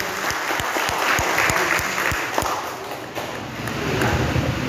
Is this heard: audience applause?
yes